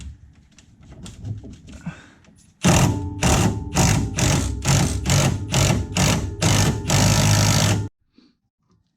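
Wrench on a 14 mm strut bolt of a Honda CRX Si: quiet fiddling at first, then a loud, close series of about a dozen quick, evenly spaced ratcheting bursts that stop abruptly.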